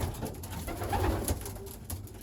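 Racing pigeons cooing softly in a loft, with low, throaty coos repeating over a steady background murmur and no talking.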